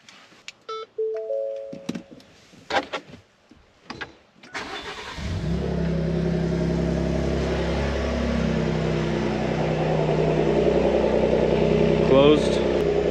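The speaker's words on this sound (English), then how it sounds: "But let's turn on the truck." Clicks and a short chime come first, then a Ford Raptor pickup truck engine cranks and catches with its exhaust valves closed, settling into a loud, steady idle with a brief voice over it.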